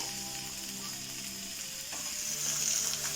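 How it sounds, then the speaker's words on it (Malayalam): Washed chicken pieces frying with ginger and garlic in a pan, giving a steady close sizzle throughout with light stirring noises and a brief louder hiss near the end; no one speaks. "ഇതിലേക്ക് നമുക്ക് കഴുകി വെച്ച ചിക്കൻ ഇട്ട് കൊടുക്കാം"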